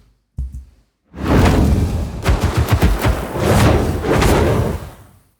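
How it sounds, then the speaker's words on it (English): Fire spell sound effect samples: a short thump, a brief gap, then a loud roaring, crackling burst of flame that surges in pulses for about four seconds before fading out. "Most of these fire samples came from Soundly."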